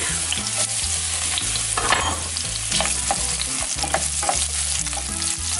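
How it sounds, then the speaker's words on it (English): Sliced onion and garlic sizzle and fry steadily in hot oil in a pan, a close, continuous crackle with occasional stirring scrapes and no voices. "once they cook a little bit in the oil and flavor the oil"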